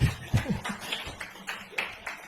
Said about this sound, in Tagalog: Bakit puro babae yung pumapalakpak?